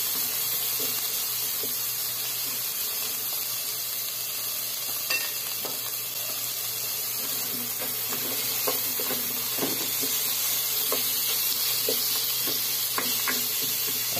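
Tomatoes sautéing with onion and garlic in a pan, a steady faint sizzle and hiss with scattered small pops and stirring clicks throughout.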